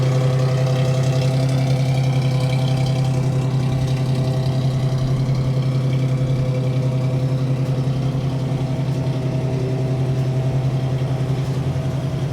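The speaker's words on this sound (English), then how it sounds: "Exhaust sounds nice." A 1993 Toyota pickup with a 3-liter engine idles steadily, its exhaust giving a constant low, even drone that holds without revving for the whole stretch, close by and with no talk.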